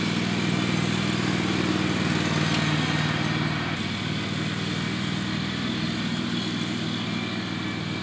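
Lawn mower engine running steadily while mowing, a constant droning hum that stays loud and close throughout with no pauses or talk.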